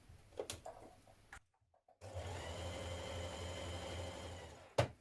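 A sewing machine runs a steady stitching burst along a shirtdress seam with a 1.2 cm allowance after a brief pause, loud and close.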